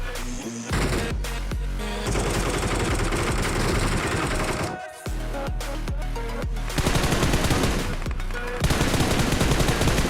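M4 rifle fire in the mobile battle royale game PUBG Mobile: loud, rapid bursts of automatic gunfire repeat across the clip, broken by a few brief pauses, with game sounds underneath.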